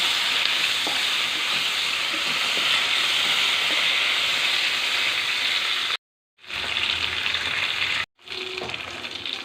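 Sliced onions with dried red chilies sizzle loudly and steadily in a hot pan as they are stirred, the frying cutting out twice for a moment.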